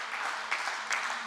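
A church congregation claps together in a short, fairly quiet burst of steady applause.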